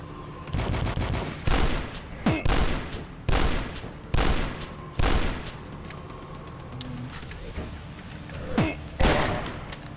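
Turrets in the video game Dusk fire repeated loud bursts of gunfire, a string of sharp close volleys arriving in irregular rapid clusters over ten seconds, with brief gaps between them.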